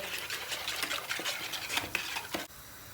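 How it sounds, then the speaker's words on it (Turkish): Eggs being whisked with a pinch of salt in a bowl for fried cauliflower batter, a close, steady run of quick tapping and scraping strokes that stops abruptly near the end. "çırparım."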